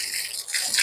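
Water splashes and gushes over rooftop solar panels during cleaning, a bright, close, hissing spray that swells near the end, with no talking.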